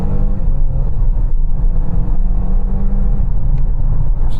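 A DS9 plug-in hybrid accelerating hard from 0 to 60 on a greasy road, with a steady loud engine and road roar from inside the cabin, continuous and unbroken throughout.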